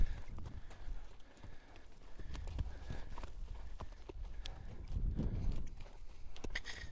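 A horse's hooves walking during groundwork, an irregular series of soft clops and thuds on the ground, fairly close with some background rustle and no talk.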